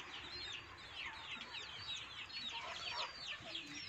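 Domestic chickens on a farm, clucking in a busy, overlapping chorus of short calls, close by and fairly faint, with no talking.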